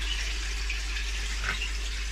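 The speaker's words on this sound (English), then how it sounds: "Right, so the water's flowing in." Water flows steadily into a pond's IBC moving bed filter, a continuous even trickle and gurgle with a low hum beneath, moderately close and without speech.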